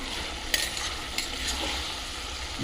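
Tomatoes and green chillies fry in a pan of hot oil, giving a steady close sizzle. A few sharp scrapes of a stirring utensil cut through it.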